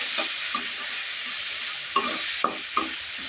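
Taro (kochu) sautés in a pan with a soft continuous sizzle, broken by several sharp spatula scrapes and knocks, a few of them close together near the end.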